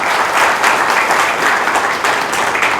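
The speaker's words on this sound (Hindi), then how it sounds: "तो एक बार मैं चाहूंगा जोरदार तालियां इन सभी हमारे सपोर्टर्स के लिए।" Loud, dense applause from a large audience at a catering and décor exhibition event, many hands clapping continuously without pause.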